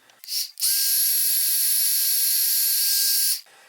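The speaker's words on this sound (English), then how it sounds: "So there's enough wind from the blow dryer to blow out some of the paint." A blow dryer blows onto wet paint on a Blueskull figure in one steady, loud rush of air lasting about three seconds, with brief bumps of handling noise before and after.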